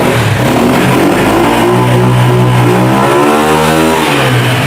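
A used motorcycle in good condition, started with its self-starter, runs close and loud, a steady throbbing engine note that rises and shifts as it revs, with no voices.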